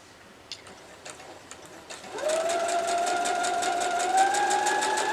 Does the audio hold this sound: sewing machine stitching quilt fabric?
yes